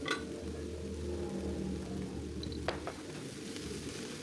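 Seasoned mixture with mushrooms, palm sugar, salt and MSG sizzles and fries steadily in a pan while being stirred, a continuous close crackle with a few faint clinks of the utensil.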